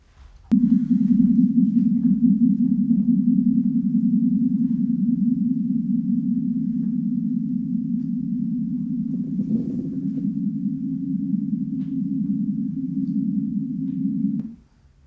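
Sonified oscillations of star 66 A, slightly more massive than the sun: a steady, low droning tone with a pulsing, wavering texture that starts abruptly, holds for about fourteen seconds and stops cleanly.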